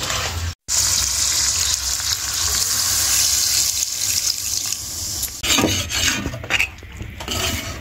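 Water poured into a pan of frying, spicy Bengali chicken, producing a loud, steady hiss and sizzle with rough scraping and bubbling, broken briefly by a short cut near the start and more agitated splashing toward the end.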